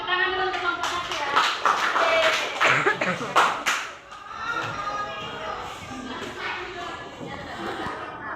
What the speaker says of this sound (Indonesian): Tepuk tangan dulu untuk kelompok satu ya.